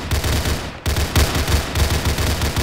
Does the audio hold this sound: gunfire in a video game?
yes